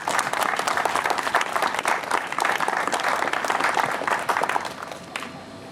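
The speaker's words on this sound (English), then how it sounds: "So give yourselves a big round of applause." A grand opening ceremony crowd claps steadily and loudly for several seconds, a dense, even wash of applause that thins slightly near the end.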